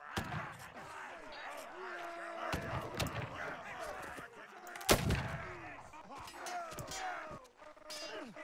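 Cannons fire in the pirate-era battle game Blood & Gold: Caribbean, several scattered booms, one sharper and louder near the middle, over a busy battle din while someone talks.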